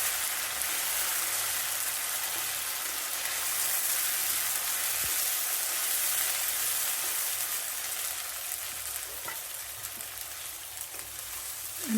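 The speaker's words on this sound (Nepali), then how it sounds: "अदुवा लसुनको पेस्ट पनि राखेर मजाले चलाउँदै" Ginger-garlic paste and sesame seeds frying in a pan for Nepali-style chicken achar give a steady, close sizzle that continues without a break, with no voices present.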